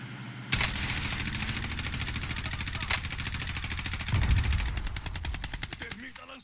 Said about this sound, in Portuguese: Tem um tiro, passou muito perto da cabeça dele